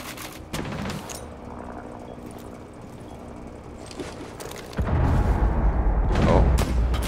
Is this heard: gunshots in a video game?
yes